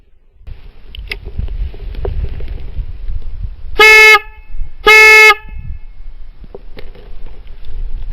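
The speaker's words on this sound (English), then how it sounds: "I'm just going to press this horn button several times and let you hear the Oxford Foghorn" An Oxford Foghorn car horn sounds twice in short, loud, blaring blasts about a second apart, close and harsh over a low background rumble.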